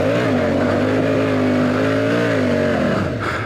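A dual sport motorcycle on Continental TKC70 tires climbs a steep hill with its engine droning loud and steady under load. Near the end the pitch sags as the bike slows.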